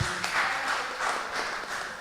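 An audience at a youth empowerment town hall in St. Catherine claps steadily for a short stretch, a dense, even patter of many hands heard close, with no talk over it.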